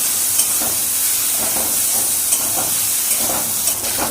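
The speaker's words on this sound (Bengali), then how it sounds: "আমি তেলের মধ্যে চিকেনটা যে ম্যারিনেট করে রেখেছিলাম সেটা দিয়ে দিলাম। আর এটা একদম পুরো হাই ফ্লেমে করতে হবে" Marinated chicken sizzles in hot oil over a high flame, a steady loud hiss with repeated soft scraping bursts as the pieces are stirred, up close with no talking.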